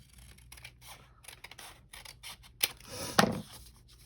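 Paper being trimmed with scissors for a handmade double pocket made from an inverted envelope: a few quiet snips and rustles, with two sharper cuts near the end, no talking.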